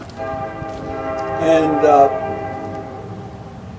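A loud train rolls past outdoors at a dedication ceremony, its horn sounding in a steady, howling tone that swells in the middle, while a man's speech continues underneath.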